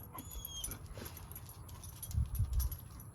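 Dogs whimper and yip in greeting, with soft high whines early on and a few louder low thumps or shuffles near the end, all close by.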